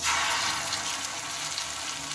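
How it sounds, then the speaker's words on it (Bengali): Grated raw potato and semolina snacks shallow-fry together in a little oil, giving a continuous close, hissing sizzle with fine crackling texture that holds steady throughout. "একসঙ্গে অল্প তেলে কিন্তু এটা ভাজা হয়ে যাবে একদম ডুবো তেল লাগবে না"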